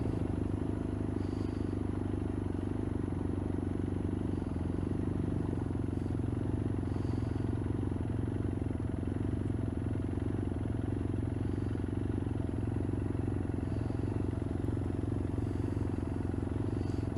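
A BMW F800 mid-range parallel-twin motorcycle engine droning steadily while riding, a continuous low rumble with wind noise at a constant pace, close and even throughout.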